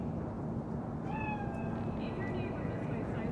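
A cat in Cyberpunk 2077 gives a few short rising meows partway through, heard over a steady, noisy game ambience with background voices.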